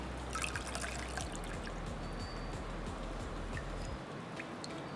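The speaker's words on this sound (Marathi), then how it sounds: "हे बघा, अशा प्रकारे आपण ह्याला गाळून घेतोय।" Betel leaf drink trickling and pouring through a kitchen strainer, a steady liquid dribble for several seconds under a low background hum that stops near the end.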